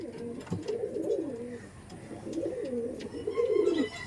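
A Pakistani teddy pigeon coos in repeated throaty rolling phrases, close and clear, with brief pauses between bursts and faint background noise.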